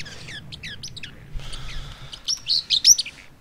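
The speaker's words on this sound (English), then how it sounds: "Oh, my bird's happy now." A pet bird chirps nearby in a quiet room, quick high tweets in short clusters, first a rapid run of notes and then a brighter burst of squeaky calls and trills.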